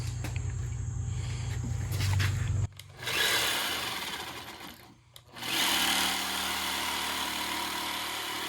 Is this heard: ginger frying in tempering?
no